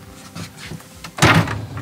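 A junk drawer in a renovated 2005 Northern Lite camper slides open with a soft rumble, ending in a louder thump as it reaches its stop, heard close up and alone.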